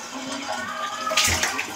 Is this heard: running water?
yes